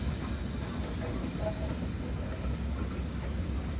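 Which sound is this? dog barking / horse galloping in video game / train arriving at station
train arriving at station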